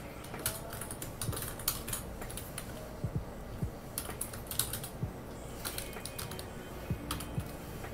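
Someone types code on a computer keyboard while building a Laravel CRUD app, with quick, uneven clusters of close, crisp key clicks running steadily throughout.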